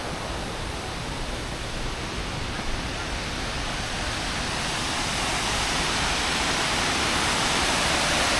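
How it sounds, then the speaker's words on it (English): Waterfall at Reedy Falls Park in downtown Greenville, South Carolina: a steady, loud, broadband rush of falling water that fills the whole stretch without a break, swelling slightly toward the end. "Check out this breathtaking view of the water park, or the waterfall."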